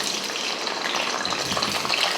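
Brinjal (eggplant) pieces fry in hot oil, a steady close sizzle and bubbling hiss that runs loud and even throughout, with no talk over it.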